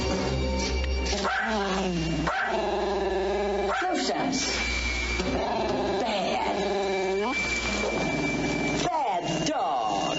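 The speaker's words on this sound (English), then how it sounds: "Bad dog." A dog in a film barks, yips and growls in bursts among other movie sounds, with people talking over and between the animal noises.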